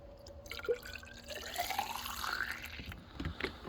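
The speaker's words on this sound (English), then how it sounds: "Don't let the coolant eat on the ground. Catch as much of that stuff as you can." Dex-Cool 50/50 coolant dripping from the bleeder screw of an LT1 engine, faint small drips and trickles falling close by against a quiet background.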